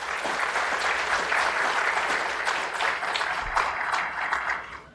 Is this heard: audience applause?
yes